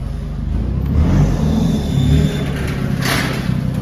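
A car engine revs close by in a short, steady, low rumble that swells slightly and then eases off.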